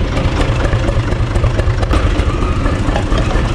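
A U445 4x4 DT tractor's diesel engine idles just after a cold start at minus two degrees, running as a loud, close, steady rough clatter with constant low chugging and no voices.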